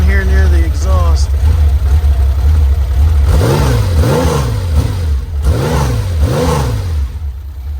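A 1972 Porsche 911 ST tribute's stiff-mounted engine, heard close to the exhaust, revs up and down in four sharp blips after an idling start, with a voice talking early on.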